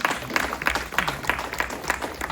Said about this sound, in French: Applaudissons quand même pour ça.